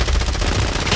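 Dense, rapid gunfire from a shooter video game, Zilla v Kong, fills the whole second as a loud, continuous rattle of close shots.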